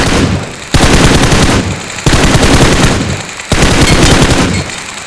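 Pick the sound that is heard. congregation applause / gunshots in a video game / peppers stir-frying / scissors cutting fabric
gunshots in a video game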